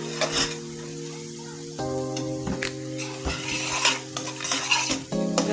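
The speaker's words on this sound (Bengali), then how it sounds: "মশলাটা ভালোভাবে ভেজে নিচ্ছি।" A spoon scrapes and stirs turmeric and coriander powder frying in a pan, with a soft sizzle under clinking strokes against the metal, close with no talking.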